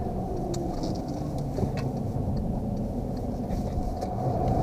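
Steady engine drone and road rumble from inside a moving 2013 Volkswagen Jetta with a 2-liter 4-cylinder engine and 5-speed manual, an even low hum with faint ticks above it and no voices.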